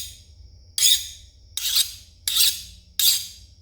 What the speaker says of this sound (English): that's the sound of a file skating